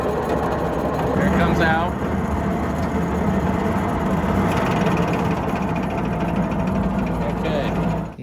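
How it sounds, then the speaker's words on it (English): A 1977 Ford F-350 wrecker runs with its PTO engaged, a steady loud mechanical drone and whine under a man's brief speech, close by. "lots of noise coming from the PTO"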